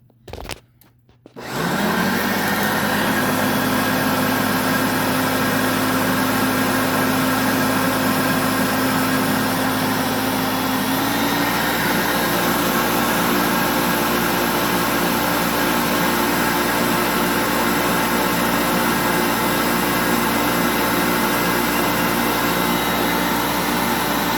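A Hoover Concept One U4205 vacuum cleaner switches on after a short pause and runs loudly and steadily, its motor whine shifting slightly in pitch partway through, held up off the floor.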